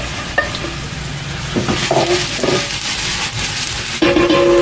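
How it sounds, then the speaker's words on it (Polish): Onion frying in a hot pan until soft: a loud, steady sizzle with intermittent stirring scrapes and clinks against the pan, close by and with no voices. "Dodajemy po rozgrzaniu cebulę. No i podsmażamy tak do miękkości."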